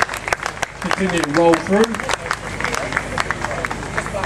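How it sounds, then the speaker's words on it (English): Crowd applause at the Morrinsville Motorama car show in 2013, steady clapping from a sizable outdoor audience under an announcer speaking over a PA. "So we'd like to hear another round of applause, folks."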